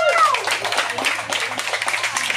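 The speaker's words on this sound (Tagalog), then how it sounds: "Palakpak!" A small crowd gathered outdoors claps and applauds, an uneven patter of hands mixed with voices and a brief rising vocal cry at the start.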